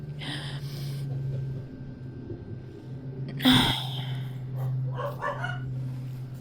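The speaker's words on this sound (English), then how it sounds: "Oh my gosh, my dogs." Dogs barking indoors during a sewing session, a sharp loud burst in the middle with softer yips and whimpers before and after over a steady hum.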